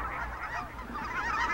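Migrating snow geese and Canada geese honk together in a steady, overlapping chorus from a large flock at a wetland.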